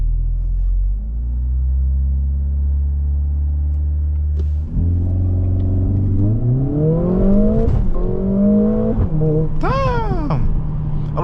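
A 2024 Mercedes-AMG GLA45 launches hard from a loud idle rumble, its engine note climbing steadily through rising revs, then a quick upshift break before the pitch sweeps up sharply again, close and dominant inside the cabin.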